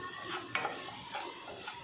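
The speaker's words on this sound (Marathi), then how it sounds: "मिक्स करून घेऊया।" A short stretch of pav bhaji being stirred with Everest pav bhaji masala in a pan, faint soft scraping and a light sizzle, one brief clink of spoon on metal, no speech.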